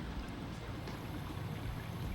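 A continuous hiss and gurgle of air escaping while the cooling system of a Hellcat Redeye-swapped Magnum is bled, a steady close rushing noise with low rumble and no talk.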